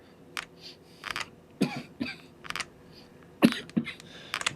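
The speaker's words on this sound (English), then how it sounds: "Apologies for all the coughing." A person with pollen allergies coughs and clears their throat repeatedly, a series of short, close, irregular bursts with quiet gaps between them and no speech.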